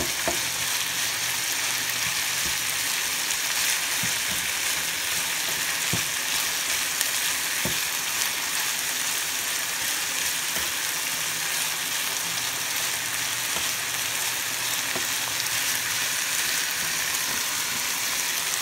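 Food fries in grapeseed oil in a skillet on a large stovetop burner, a dense, steady sizzle with faint pops and occasional soft clinks throughout.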